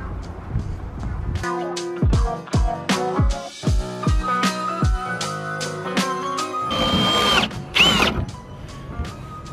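A power drill whirs in several short bursts, its pitch dropping as it bites into metal hat channel, then a longer high-pitched grinding run near the end.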